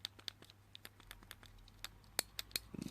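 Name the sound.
clicking dice buttons on a fake fidget cube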